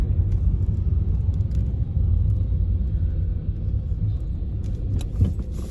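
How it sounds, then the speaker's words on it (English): A car driving on a misty road, heard from inside as a steady low road-and-engine rumble that holds level the whole time, with faint light rattles on top and no talking. "Driving through the mist."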